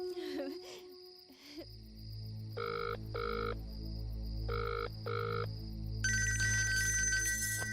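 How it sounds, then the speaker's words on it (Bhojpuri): A telephone rings in repeated electronic double bursts, clear and moderately loud, with a low hum beneath and brief voices at the start. "ए जी भैया के फोन।"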